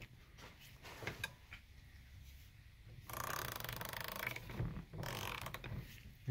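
A ratchet slowly tightens a bolt on an adjustable camber bushing for a Tesla Model S P85, giving faint, scattered clicks and then two longer bursts of steady ratcheting close by.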